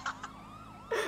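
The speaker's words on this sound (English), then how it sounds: "Oh, our sirens are in sync." A wailing police car siren in GTA 5 sweeps up and down, with short electronic whoops at the start and end, moderately loud and steady with no voices.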